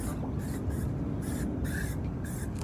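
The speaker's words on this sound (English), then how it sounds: "let's put a little bit of bug spray on." Bursts of hissing aerosol bug spray outdoors at the Tidal Basin in Washington, DC, several short sprays in a row, close by and fairly loud.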